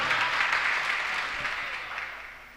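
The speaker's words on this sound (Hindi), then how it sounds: "एक बार जोरदार तालियां बजा दीजिए" An audience at a mushaira poetry recital breaks into loud, dense applause that fills the space, then slowly tapers off.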